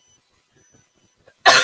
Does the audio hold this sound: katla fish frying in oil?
no